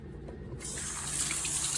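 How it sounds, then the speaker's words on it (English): Tap water gushing into a colander to wash garbanzo beans, a steady close hiss of running water that swells louder partway through, with no talking. "Wash these garbanzo beans."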